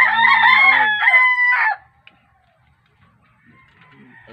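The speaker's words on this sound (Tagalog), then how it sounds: "ayun yung mga manok ni Mumber" A rooster crows loudly and close by on a small farm in one long drawn-out call, followed by near silence with faint distant background sounds.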